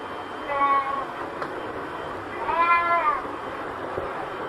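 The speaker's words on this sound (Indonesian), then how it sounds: "seekor kucing yang terus mengeong meminta bantuan" A cat meows twice, one short call and then a longer drawn-out one, close and clear over a steady low background hum.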